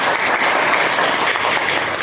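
Loud, steady applause from an audience at a youth awareness event, dense clapping sustained without a break and no voices over it.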